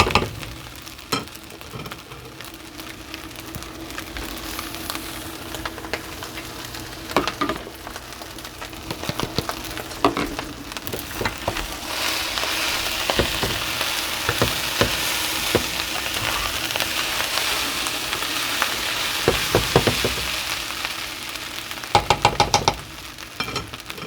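Pineapple and shrimp fry in a wok over medium heat, a steady sizzle with frequent clanks and scrapes of stirring throughout, no voices.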